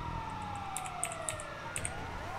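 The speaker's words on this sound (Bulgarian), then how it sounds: "Пустете си сирените!" An ambulance siren in a video game wails in slow descending sweeps, fairly faint, with light bright clicks scattered across it.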